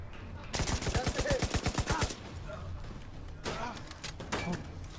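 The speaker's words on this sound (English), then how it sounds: "Who's shooting from there with a shotgun?" Rapid shotgun gunfire in The Division 2 video game, a fast run of loud sharp blasts followed by a few scattered later shots amid a noisy firefight.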